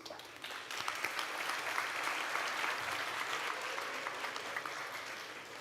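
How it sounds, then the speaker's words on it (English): A crowd at a graduation commencement ceremony gives a warm round of applause that rises quickly and holds as a steady, full, somewhat distant sound of many hands clapping. "Let's show our appreciation with a warm round of applause."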